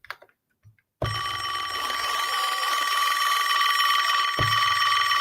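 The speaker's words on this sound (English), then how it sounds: "because it's a phone ringing" A sampled telephone bell rings loudly from an Akai MPC, its bright metallic trill starting abruptly after a near-silent moment and retriggering once near the end.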